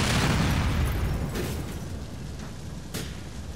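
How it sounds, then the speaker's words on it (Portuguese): A van blowing up in GTA IV, with a loud rumbling blast at the start that fades into a long low crackling roar, plus two brief sharp pops later on. "Vamos só ver a explosão agora"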